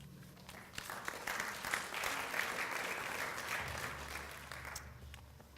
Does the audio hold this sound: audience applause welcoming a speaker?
yes